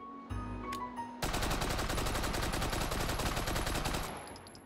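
Sustained automatic fire from a Japanese WWII 8.22mm Nambu gun in the VR shooter Hot Dogs, Horseshoes & Hand Grenades, a loud rapid rattle of shots running about three seconds before cutting off, with no talking.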